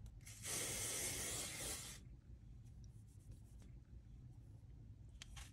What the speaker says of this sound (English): Yeah, just spray it on your hair.